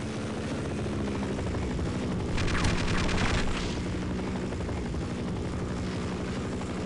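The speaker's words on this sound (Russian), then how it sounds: "Вертолет помог мне добить ее." A helicopter in the video game Half-Life makes a loud, steady rotor drone, with a brief burst of rapid gunfire-like thumps partway through.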